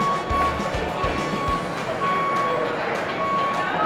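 Store reversing beeps at a busy Home Depot repeat as short, evenly spaced electronic tones over a constant crowd murmur and rolling cart noise, with people talking nearby.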